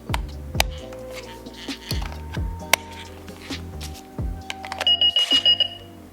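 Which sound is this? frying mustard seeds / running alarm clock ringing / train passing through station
running alarm clock ringing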